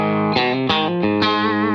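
Electric guitar through a Marshall Bluesbreaker amp with a boost pedal and the gain turned fully up, four saturated, compressed distorted chords struck in a steady rhythm, loud and close with no talking.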